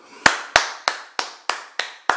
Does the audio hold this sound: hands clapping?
yes